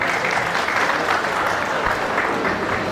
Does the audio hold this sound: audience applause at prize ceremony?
yes